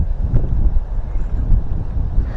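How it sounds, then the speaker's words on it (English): Strong wind beside a fishing pond in autumn buffets the microphone with a constant low rumble and gusty roar, no voices heard. "Whoo, it is windy."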